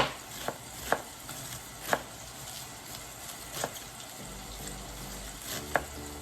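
A sharp knife shreds cabbage finely on a cutting board, crisp irregular chops spaced about a second apart over a quiet kitchen background with a faint low hum.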